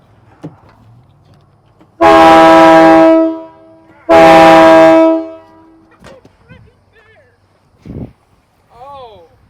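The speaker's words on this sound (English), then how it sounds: "See if the horn works." Train horns installed on a Peterbilt truck blast twice, each a loud, sustained, close, multi-tone chord lasting about a second, followed by brief voices and faint knocks.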